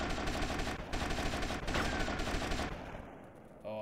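AK rifle firing in Grand Theft Auto: Vice City, a dense, loud stream of automatic shots that suddenly stops and leaves a quieter tail.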